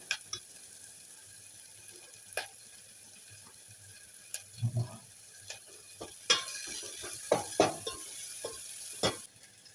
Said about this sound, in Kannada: ಇದು ಎಣ್ಣೆ ಒಳಗೆ ಚೆನ್ನಾಗಿ ಫ್ರೈ ಆಗೋದ್ರಿ.